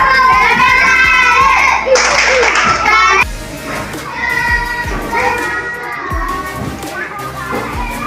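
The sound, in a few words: classroom of children clapping for a group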